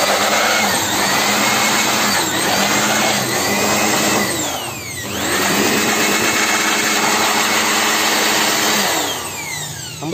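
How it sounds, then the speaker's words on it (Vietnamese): A small electric dust blower whines steadily and loudly while blowing dust out of computer fans, its pitch dipping and rising as the airflow shifts, with no talking. "ở đây mình có một cái máy thổi bụi nhỏ"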